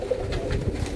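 Pigeons of a cement-coloured breeding stock coo softly in a loft, a low continuous murmur of overlapping calls filling the brief moment with no talk.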